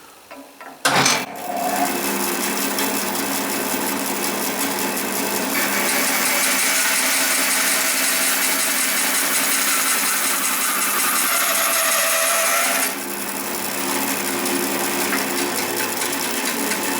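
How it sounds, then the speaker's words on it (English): A bandsaw runs steadily for about twelve seconds while a blue pearl Kirinite pen blank is pushed through it, giving a loud, continuous whirring cut that drops off near the end, with no talking. "Then we can turn on the bandsaw and push the blank through."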